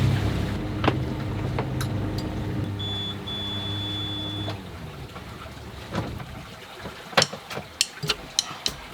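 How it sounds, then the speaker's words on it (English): A sailboat's engine hums steadily while motoring at sea on a passage from Antigua, a low drone with a shifting tone, later giving way to scattered clicks and knocks on board. "I think I can turn up the engine"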